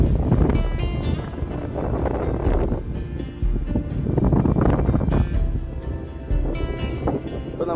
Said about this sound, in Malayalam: നല്ല കാറ്റാട്ടോ.